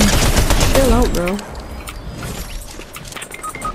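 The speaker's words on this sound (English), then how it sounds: "He's shooting me." Gunfire rattles through a video game shootout in a squad battle royale, a rapid volley of bursts running throughout, partly under excited talking voices.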